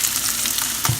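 Onions and bell peppers sizzle steadily in a frying pan, a dense crackling hiss with small stir-like bumps and a slightly louder burst near the end.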